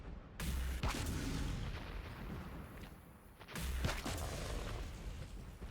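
Grenade launcher blasts in the Empyrion Galactic Survival game, fought against a queen creature: two heavy booming explosions about three seconds apart, each followed by a rumbling, crackling tail.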